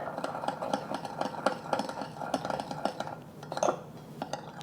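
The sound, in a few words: stirring soy and oyster sauce mixture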